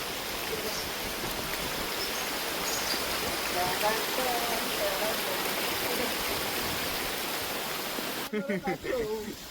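Continuous hiss of falling rain or rushing water fills the clip, with faint voices underneath and a brief louder disturbance near the end.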